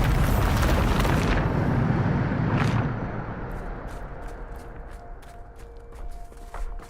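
A Bombarda spell blast in Hogwarts Legacy erupts as a loud rumbling explosion that fades over a few seconds, followed by quieter scattered clicks and light game sounds.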